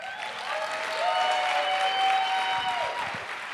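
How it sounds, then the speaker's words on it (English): Steady audience applause at a livestreamed Ignite Denver talk event, a full crowd clapping continuously at moderate volume with a faint whistle-like tone above it, swelling slightly midway before easing off. "So please, round of applause."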